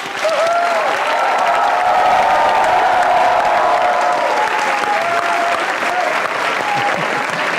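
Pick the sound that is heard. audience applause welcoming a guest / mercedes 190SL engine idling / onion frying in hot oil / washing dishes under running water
audience applause welcoming a guest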